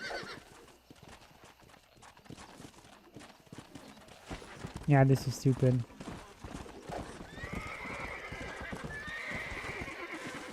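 A horse in Red Dead Redemption (2010) clip-clops at a run and lets out a sharp, loud whinny midway, with someone talking over the hoofbeats and game sounds throughout.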